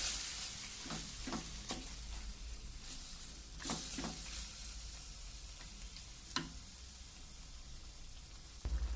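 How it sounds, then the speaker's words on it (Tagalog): Marinated pork belly with fermented black beans is stirred in a pan, with a quiet, steady sizzle under a series of sharp utensil scrapes and clacks, several of them clustered early and a few more spaced out later. "Halu-haluin lang po natin ng kaunti."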